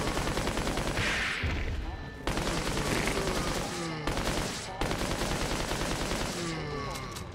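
Rapid, continuous gunfire from the Resident Evil 4 prototype remake game, with dense repeated shots in bursts separated by short breaks, loud and close.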